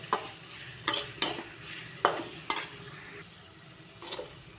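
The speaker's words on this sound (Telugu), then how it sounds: "బాగా వేయించుకోవాలి దొండకాయలు" Ivy gourd (tindora) pieces fry in a pan with a soft sizzle, broken by several sharp scrapes and taps of a spoon against the pan at irregular intervals. Close and fairly quiet, with no voices.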